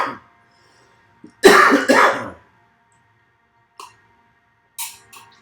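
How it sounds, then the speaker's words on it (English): A couple of close, harsh coughs or throat clearings in quick succession, followed by a few faint clicks and rustles in an otherwise quiet room. "Oh, the coughs of contemplation."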